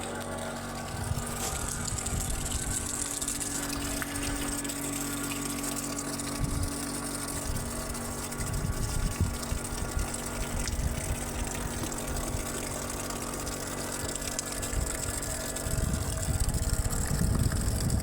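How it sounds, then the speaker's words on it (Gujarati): Floodwater flows after continuous heavy rain, a steady rushing wash with a constant mechanical hum underneath that lasts the whole stretch, with no voices. "વરસાદ એક ધારો ચાલુ હતો અને પાણી પણ હબાબ આવી ગયું છે"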